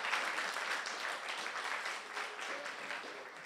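A church congregation claps in sustained, dense applause, a fairly distant wash of hand claps with faint voices mixed in.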